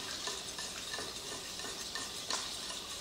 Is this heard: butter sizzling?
yes